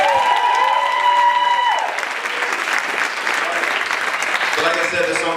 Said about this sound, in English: Make a round of applause for these two guys.